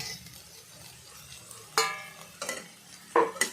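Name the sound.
eggplant pieces added and stirred in frying pan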